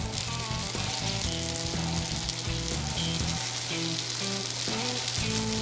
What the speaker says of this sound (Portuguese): E aqui a gente vai selar esse nhoque.